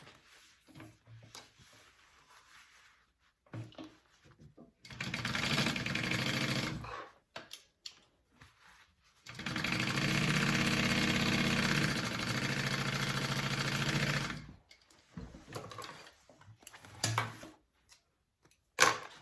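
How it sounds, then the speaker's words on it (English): A sewing machine stitches a bucket bag's pocket shut in two sustained bursts of steady motor whir. Quiet gaps and soft handling noises separate the runs. "I'm going to stitch just our pocket shut."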